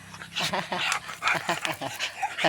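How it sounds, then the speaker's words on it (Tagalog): A pet dog pants and snuffles close by in quick rhythmic bursts, with small yips and whimpers mixed in, loud and near throughout. "Dumug ako ng aso ko."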